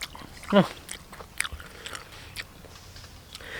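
Someone bites into crunchy wild food from a forest camp kitchen, with one sharp crunch followed by softer, close chewing and light background noise.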